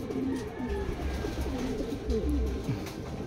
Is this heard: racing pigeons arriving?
yes